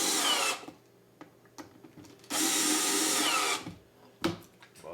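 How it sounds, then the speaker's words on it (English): Power drill driving screws into a wooden bee pallet, with two long whirring bursts of the drill separated by quieter clicks and handling noise, close and loud. "and set the screws in"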